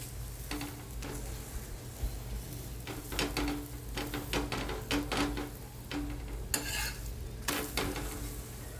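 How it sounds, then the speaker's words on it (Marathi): A fenugreek paratha fries in oil on a pan, with a steady low sizzle broken by repeated scraping and pressing strokes of a spatula, close and moderately quiet, no talking. "दोन्ही बाजूने तेल लावून मस्त पराठा आपल्याला खरपूस असा शेकून घ्यायचा आहे"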